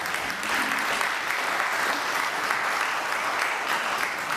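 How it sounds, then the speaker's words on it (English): Sustained applause from a debate audience in a school venue, a dense, even wash of many hands clapping at a steady level throughout. "give yourselves a round of applause"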